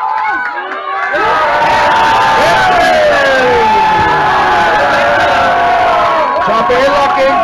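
An audience at a women's tag-team wrestling event cheers and shouts loudly, a dense continuous crowd roar with whoops and high voices rising after a brief quieter start.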